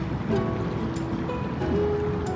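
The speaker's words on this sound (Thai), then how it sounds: "เสียงน้ำคลื่นน้ำ" Water washes and laps steadily against a boat on a river, a continuous watery churn with faint creaks and no talking.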